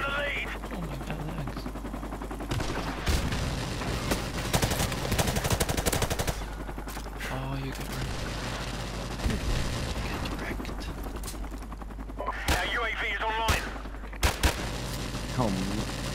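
Rapid submachine gun bursts in Call of Duty Modern Warfare Remastered on the Pipeline map, loud crackling volleys with mechanical clatter, repeated through the stretch over steady game noise, with a voice talking at moments.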